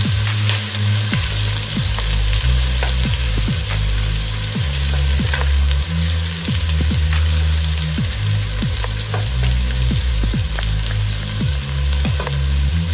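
Onion frying in oil over medium heat, a steady loud sizzle with occasional soft scrapes from stirring, with no voices.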